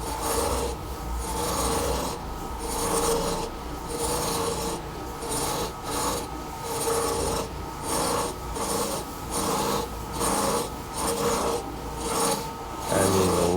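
A carpet cleaning machine scrubs 49-year-old carpet, giving a loud, close, continuous rasping drone that pulses in a regular rhythm as it works back and forth, with no voices.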